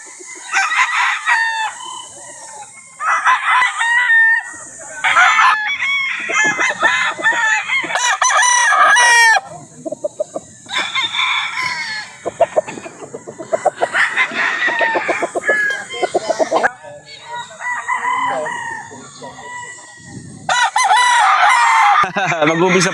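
Roosters crowing repeatedly and loudly up close, several long strained calls in succession with short pauses and some clucking between them.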